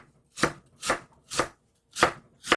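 A knife slices lotus root into pieces about 0.5 cm thick on a cutting board, five crisp evenly spaced chopping strokes, close and clear, with no talk.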